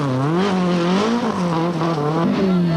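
Datsun Violet rally car with camshaft trouble on a forest stage of the 1982 Lombard RAC Rally, its engine loud and close with wavering revs rising and falling, heard alone.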